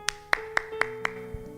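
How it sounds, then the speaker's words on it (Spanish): A few sharp, evenly spaced claps, about five in a row, faint and close, with no crowd swell, heard during a church sermon. "¿Qué querés, que te aplaudamos?"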